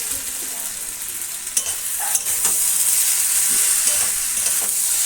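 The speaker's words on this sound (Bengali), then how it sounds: "এই যে এঁচোড়ের তরকারি আমি কষছি এখন।" Green jackfruit curry is stirred and sautéed in a hot pan, giving a steady close sizzle and frying hiss with a few scraping stir clicks and no talking.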